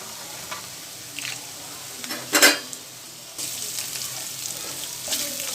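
Sliced coconut sautéing with Pallipalayam chicken in a pan, a soft steady sizzle with occasional stirring scrapes and a brief louder clatter near the middle, no talking.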